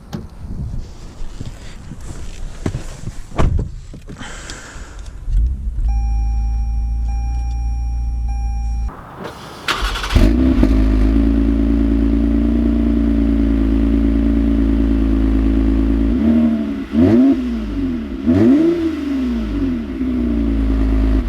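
A 2020 Toyota Camry TRD engine starts after some clatter, then settles into a steady hum that rises and falls with a few revs as it drives off.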